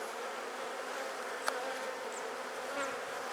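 Bees buzz around flowers while gathering nectar and pollen, a close, steady, continuous hum with no voices over it.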